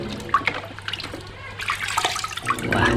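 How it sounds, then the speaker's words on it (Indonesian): Running water rinsing a muddy toy truck, splashing and trickling close by with uneven gushes and drips, the flow growing fuller toward the end, with no talk over it. "ini kita cuci"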